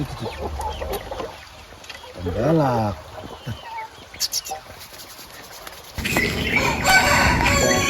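Bangkok chickens: a rooster crows once amid scattered clucking, with people talking close by and a rushing noise building near the end.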